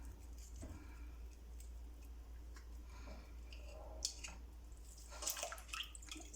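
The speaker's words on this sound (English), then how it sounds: "You can put it in the water to wash it off a bit more." Saltfish is rinsed in water in a home kitchen, with faint splashes, drips and small clicks of handling over a low steady hum, quiet and close.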